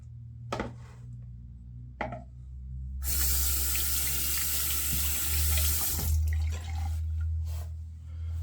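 A water tap runs during a wet shave: two faint clicks first, then a loud, steady splashing stream pours for about three seconds and continues more softly afterward.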